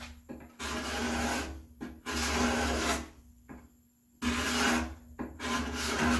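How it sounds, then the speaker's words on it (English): A card scraper is pushed across walnut wood on a plant stand in a series of long, loud rasping strokes that are close up, broken by short pauses and a longer gap near the middle, with no talking. "you can take the card scraper"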